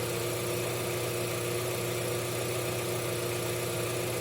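A car engine idles steadily and fairly quietly, with an even low hum and faint vibration throughout and no talking.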